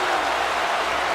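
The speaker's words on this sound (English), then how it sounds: "This crowd is going wild" A video game wrestling crowd from WWE 2K15 roars in a steady, dense wall of cheering and applause during an NXT match, loud and continuous throughout.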